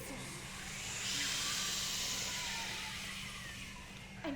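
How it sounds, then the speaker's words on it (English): A whistling, hissing wind sound effect accompanies a narrated story at a live concert, swelling in a broad airy rush, peaking midway and easing off, with a low steady hum beneath and a short burst at the end. "strong wind began to whistle."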